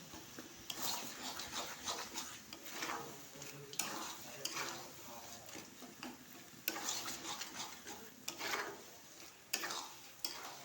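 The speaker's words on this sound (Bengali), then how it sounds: "দিয়ে ভালো করে ভালোভাবে মিশিয়ে নেড়ে নিতে হবে" Vegetable curry for a Bengali shukto mixed with wheat flour and stirred in a pan, a steady quiet sizzle with continuous rubbing spatula strokes and occasional light scrapes, close by.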